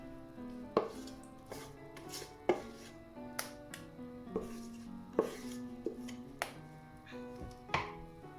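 Chocolate cake batter is spread and levelled in a cake tray lined with greaseproof paper. Quiet, irregular taps and knocks of a utensil against the tray repeat about every second, with no speech.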